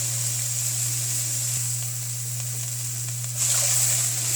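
Onions and carrots sautéing in a pan for a beef stir fry give a steady, close sizzle and hiss that swells louder near the end, with a low constant hum underneath.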